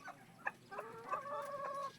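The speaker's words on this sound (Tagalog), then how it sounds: "Tinatawag ng tandang yung mga ano" A rooster clucks and calls repeatedly, calling hens to overripe bananas in a farmyard, with short near clucks followed by a longer sustained call.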